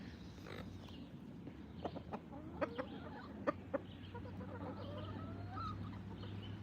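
A rooster clucks and calls over a steady low farm hum while cattle feed, short bursts scattered through a constant background drone.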